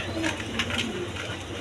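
Pigeons cooing up close in a small loft, a soft continuous rumbling coo with faint background noise and no clear talk.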